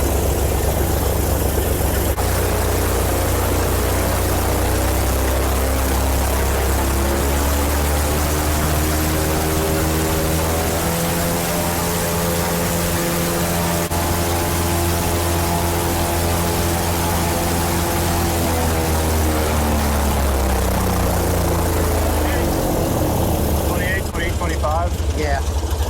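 Airboat engine and propeller held at high RPM, a loud continuous droning roar whose pitch climbs and then eases back down, with people speaking over it.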